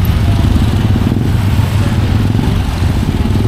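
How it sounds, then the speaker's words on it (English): Motorbikes ridden by tourists along a main strip road on a Philippine island, a loud continuous engine drone close by with no pause, no voices over it. "all the tourists coming down the road on their motorbikes"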